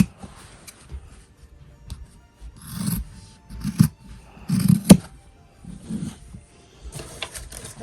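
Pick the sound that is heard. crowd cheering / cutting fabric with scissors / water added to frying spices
cutting fabric with scissors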